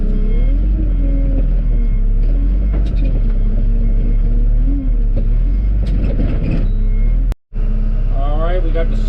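A Cat 321C LCR excavator dumps sand padding into a long electric trench, its loud diesel engine droning steadily with a brief cutoff near the end, while someone talks over the machine.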